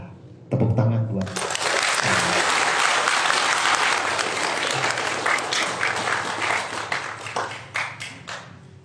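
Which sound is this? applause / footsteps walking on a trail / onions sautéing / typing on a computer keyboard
applause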